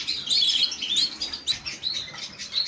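An Isabel-colour canary hen chirps in quick repeated high tweets, close and clear, with no voices.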